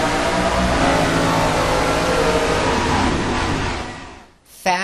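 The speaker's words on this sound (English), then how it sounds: "Fat American V8 engines." Fat American V8 stock car engines roar loudly and continuously in the ARCA Sim Racing game, a dense droning pack that fades briefly before a sharp burst near the end.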